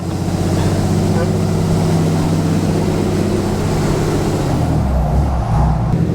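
A massive lime green Dodge Cummins diesel truck drives along, its engine a loud, continuous low drone heard from inside the cab through open windows. The rumble shifts slightly near the end.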